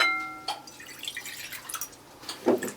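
Milk poured into a bowl while preparing a Pontic Greek cheese bread dough, a light splashing and dripping trickle, fairly faint, with a few clinks against the bowl.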